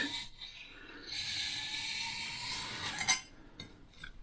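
Knife blade being drawn across a sharpening stone, several soft rasping passes close up with a small clink near the end.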